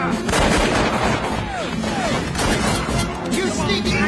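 Heavy gunfire in a World War II film, loud sharp blasts and rapid bursts crashing close together, with shouting voices mixed in among the shots.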